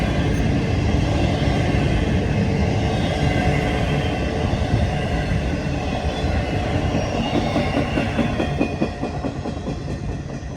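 A CSX intermodal freight train rolls past close by, a loud steady rumble of railcars with rhythmic clickety-clack from the wheels and faint squeals throughout, with no voices.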